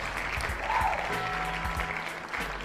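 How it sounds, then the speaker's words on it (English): A crowd applauds a baseball player at Yankee Stadium, a steady wash of clapping heard at a distance and fairly faint, continuing evenly throughout with a voice briefly audible. "I want to give a round of applause to Mr."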